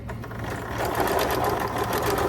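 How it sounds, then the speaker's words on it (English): A sewing machine stitching a doll skirt at a quarter-inch seam hums continuously and close up, a steady mechanical whir with a rapid needle rhythm that grows slightly louder partway through. "I am sewing this at 1/4 inch, just like everything else."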